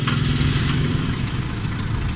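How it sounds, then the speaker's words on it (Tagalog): A car engine runs at a steady, loud idle after being started by a homemade RF remote-control car alarm. The rumble holds close and constant with no talking. "Kayang-kaya kong pa-startin ang makina gamit ang remote lang."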